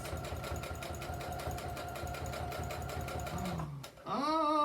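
A sewing machine runs steadily while stitching fabric for a beach tote, a fast rhythmic mechanical whir lasting most of the clip before it stops, followed by a louder, different mechanical sound at the end.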